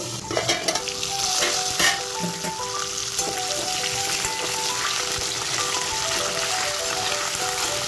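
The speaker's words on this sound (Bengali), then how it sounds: "মিডিয়াম ফ্লেমে আমি মাছের মাথাগুলোকে ভাজবো।" Rohu fish heads fry in a pan over medium flame, sometimes covered and stirred, giving a steady loud sizzle with scraping stir strokes and a faint tonal backing throughout.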